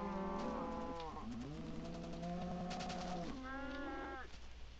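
Minecraft cow mooing in the video game, a long drawn-out low moo followed by a second rising moo, fairly loud and alone with no talking.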